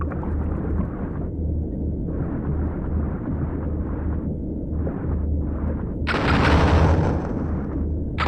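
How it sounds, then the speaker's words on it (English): Fish explode in the video game No Players Online with repeated muffled booming blasts in short bursts, then a brighter, louder explosion toward the end. "so the fish explode"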